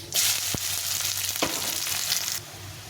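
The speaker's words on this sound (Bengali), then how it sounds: "পেঁয়াজটা একটু লাল লাল করে ভেজে নিয়েছি" Chopped onion fries in hot oil with whole cumin and dried red chili, a loud, close, constant sizzle with two sharp utensil knocks, cutting off near the end.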